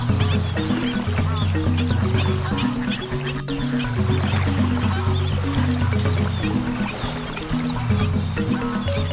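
Ducks and other waterbirds at Thol Bird Sanctuary in Gujarat quack and honk nearby in a loud, continuous overlapping chorus, with calls repeating in quick rhythmic bursts and no talking.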